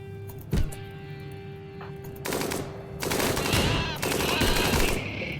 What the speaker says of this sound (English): And now we're just shooting up the animals, because that makes total sense.